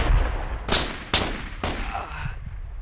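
Machine gun fire in the tactical shooter game Project Reality: three separate sharp bursts spaced about half a second apart, loud and close, over a low rumbling background.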